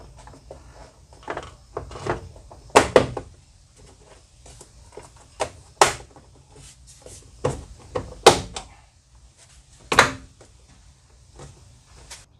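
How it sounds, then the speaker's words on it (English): A series of plastic clicks, snaps and thumps at irregular intervals as an inner door panel is pressed and fitted into place on a CFMOTO ZFORCE 950 side-by-side with aluminum lower doors, fairly close. "So I'm going to go ahead and put the inner door skin on now."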